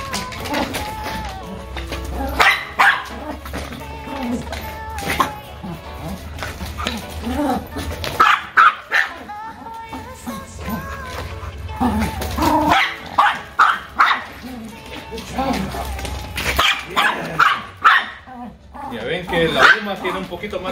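A dog barks repeatedly during an indoor exercise session at home, sharp close barks and yips coming in irregular bursts, with someone talking in between.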